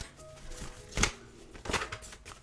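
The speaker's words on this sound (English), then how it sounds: "Okay, I'm going to shuffle these big ass cards." Large oversized cards are shuffled by hand, giving a few soft riffling and slapping bursts, with two sharper snaps standing out against a quiet background.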